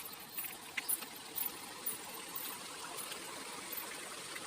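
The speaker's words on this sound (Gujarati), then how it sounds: "અમારા ખેતરમાંથી પાણી આવે છે" Soft, steady rush of rainwater flowing out of a farm field into a channel, faint and continuous, with a few small splashy bursts.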